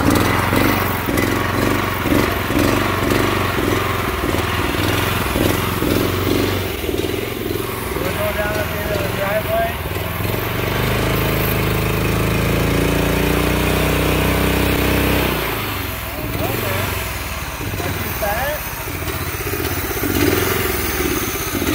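Honda GX340 engine on a cheap go-kart, running loud and close with a steady chugging idle that surges and settles, while people talk over it.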